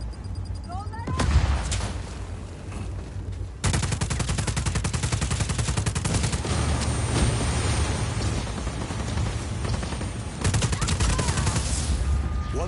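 Rapid sustained automatic gunfire in Just Cause 4 hammers a target, loud and continuous, with brief gaps and heavier bursts between stretches of steady shooting.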